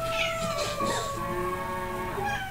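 A cat meows in a long, drawn-out, wavering yowl that shifts in pitch. It is fairly loud and close, with faint background noise beneath it.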